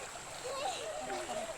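Children splashing and bathing in a river swimming spot in Barangay Sawata, Asuncion, Davao del Norte, a steady wash of water splashes with flowing stream sound and faint voices mixed in throughout.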